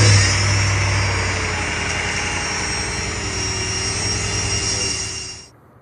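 Mercedes CLS550 engine running steadily after a drive belt replacement, with a bad pulley adding a constant whining, droning mechanical noise, loud and close, then cutting off near the end.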